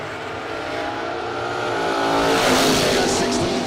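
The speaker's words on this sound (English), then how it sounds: "Watch the wheel stand on this good-looking Chevelle." A Chevelle drag car launches into a wheel stand at a bracket race, its engine roaring loud and rising steadily with tire noise, an announcer's voice faint beneath the swelling din.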